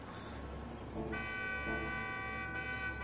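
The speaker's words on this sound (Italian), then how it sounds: "E cominciano anche i clacson." Several car horns honk and blare together in a racing video game, Re Amemiya one-make cars at a Deep Forest event, a steady layered chorus of held tones with engine-like hum beneath.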